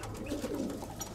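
Pigeons in a loft on Santorini coo softly with a low throaty purr, close by and brief, over faint background hum.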